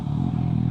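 A Suzuki GSX-S750 motorcycle ridden on a sunny day in Patong, giving a steady, loud, low engine drone with a light rattle on top and no break in the sound.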